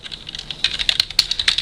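Rapid clicking of keys on a computer keyboard, a close, steady run of light taps that grows denser and a little louder toward the end.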